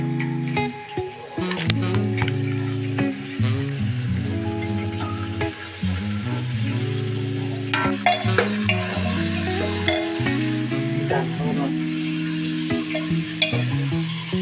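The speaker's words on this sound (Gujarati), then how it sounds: "તો શાકભાજી બધું મિક્સ કર્યું છે ઓકે હવે હલાવવાનું છે" Mixed vegetables including cabbage and tomato frying in a pan for Maggi rice in a village kitchen, stirred steadily with a spoon; continuous sizzle with repeated scraping strokes against the pan, close and fairly loud, no talking.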